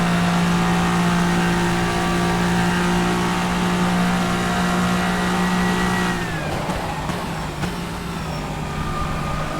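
An LMD Le Mans hypercar in the rFactor 2 racing sim holds a loud, sustained engine tone that drops sharply into an upshift around six seconds, then rises again over rumbling tyre and road noise.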